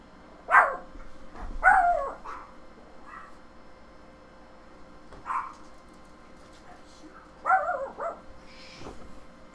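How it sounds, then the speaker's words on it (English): A dog barks indoors in short bursts, a few sharp barks and yips spread across the stretch with quiet gaps between them, fairly close to the microphone, with some faint background noise. "Sorry about that, the dog's barking"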